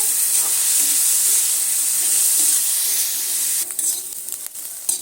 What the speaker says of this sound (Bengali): মটরশুঁটি আর গাজরটা ভালো করে এবার সমস্ত কিছু আরও মিনিট দিনের সময় নিয়ে আরও একটু সুন্দর করে ভেজে নিচ্ছি